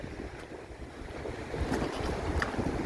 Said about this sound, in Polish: naprawdę ten szum morza, tych fal jest mega